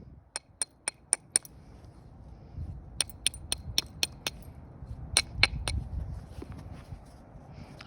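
Antler tool striking obsidian during flintknapping, giving sharp glassy clicks in two quick bursts of about six taps each, then a third cluster of louder strikes over low handling rustle.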